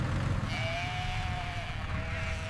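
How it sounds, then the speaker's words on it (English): Sheep bleating amid a livestock transport or holding scene, one drawn-out bleat fairly close over a steady low rumble, with a second shorter call toward the end. "these sheep are lifted into trucks and brought to the nearest warehouse"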